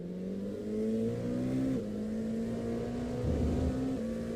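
An LMP2 prototype race car engine in iRacing revs and accelerates steadily through the gears, a sustained buzzing drone with shifting pitch, fairly faint and alone.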